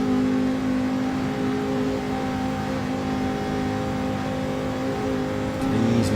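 Race cars accelerating hard on the Nürburgring Nordschleife in a racing video game, several engines droning steadily and loudly together throughout with a rising whine near the end.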